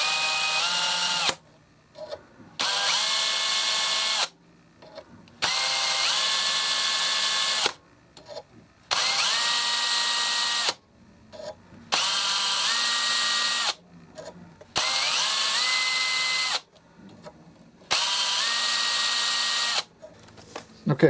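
A drill jewels a rifle bolt in a series of about eight short, even bursts, each a couple of seconds long and separated by brief pauses, close and clear.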